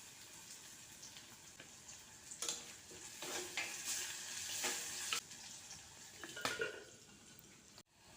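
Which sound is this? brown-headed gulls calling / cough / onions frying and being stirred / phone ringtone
onions frying and being stirred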